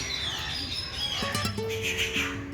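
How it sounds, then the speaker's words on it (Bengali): Birds, both caged and wild, chirp and call at a moderate distance at the Marble Palace zoo in Kolkata, with short whistled notes and tweets over a soft background hum. "এখানে খাঁচার পাখির সঙ্গে সঙ্গে বনের পাখিরও প্রচুর আওয়াজ শোনা যাচ্ছে"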